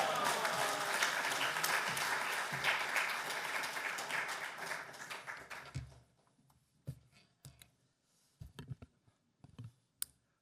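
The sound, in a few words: congregation applauding in welcome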